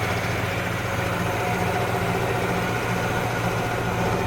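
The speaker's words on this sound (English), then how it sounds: "The engine runs super strong on it." A 1968-coded engine in a 1969 Chevrolet SS, rebuilt, idling steadily with a deep low rumble and constant mechanical hum, close and continuous with no talk.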